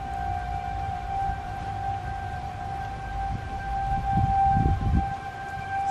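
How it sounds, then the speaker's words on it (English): Sirens wail steadily through a night scene, a sustained high tone holding throughout with a low rumble swelling near the end. "Seemed like never-ending sirens this night."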